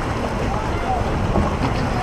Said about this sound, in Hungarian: Ezt szeretem hallgatni. Amikor a gépház így düdörög.